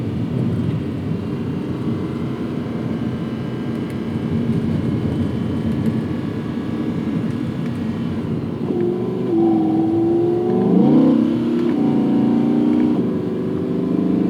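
An Audi R8 V10 Plus Spyder cruises in comfort mode, its engine a steady, moderate drone with road rumble, then rising in pitch with quick, smooth gear changes from the seven-speed dual-clutch transmission near the end.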